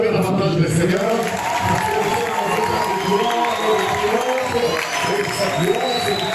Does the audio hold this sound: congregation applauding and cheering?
yes